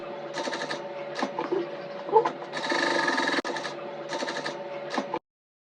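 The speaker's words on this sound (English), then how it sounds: "I'll go ahead to sew the bias around the edges of the mesh." A sewing machine stitches cotton bias binding around the edges of crinoline mesh in steady motor bursts, with short pauses between runs and one longer continuous stretch, close and fairly loud.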